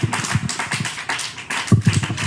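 Church congregation clapping in acclaim of Jesus, a quick run of sharp, close hand claps with a fuller burst near the end, no talking.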